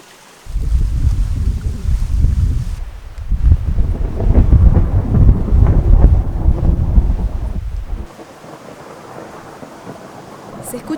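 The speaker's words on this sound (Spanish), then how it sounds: "Se escuchan relámpagos, parece que se viene la lluvia." Deep thunder rolls and rumbles across the open air on a mountain hike near the Quebrada de San Lorenzo waterfalls, swelling loud in two long waves over wind buffeting the microphone, then fading to a quieter hiss.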